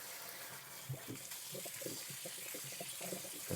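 Tap water runs steadily into a sink, with soft splashing and faint knocks as soaked chickpeas are rinsed under the stream.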